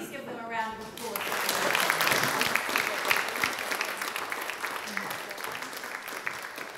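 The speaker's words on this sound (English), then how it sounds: "Can we please give them a round of applause?" After a voice speaks, an audience at a regional planning symposium breaks into applause that swells to a steady, moderately loud clapping and then gradually eases off.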